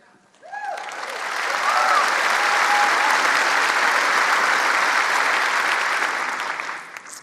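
An audience breaks into applause, swelling quickly to a loud, sustained wash of clapping that holds for several seconds before tapering off, with a few cheers at the start.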